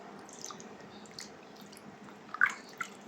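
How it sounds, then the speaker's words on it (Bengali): Water splashing and dripping as a potato-juice face pack is rinsed off skin and hands, soft intermittent drips and squishes over a low running background, with one brief louder splash near the end. "এভাবে আমরা এই যে ধুচ্ছি।"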